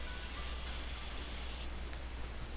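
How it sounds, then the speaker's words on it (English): An airbrush sprays paint thinned with a few drops of reducer while Yeezy Boost 350 sneakers are painted, giving a steady close hiss that cuts off partway through. "I just added a few drops of reducer and it's spraying out just perfect"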